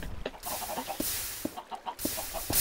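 Chicken clucking in Minecraft, several short game-sound clucks repeating over a steady background hum, fairly quiet, no talk over it.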